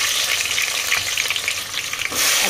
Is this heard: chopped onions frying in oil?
yes